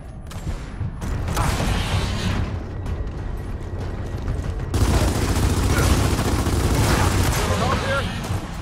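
Turret gunfire in Gears of War 4 during an elevator fight, a continuous heavy rattling barrage with mechanical creaks, growing louder and denser midway.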